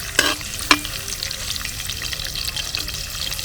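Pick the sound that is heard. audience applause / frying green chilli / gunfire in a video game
frying green chilli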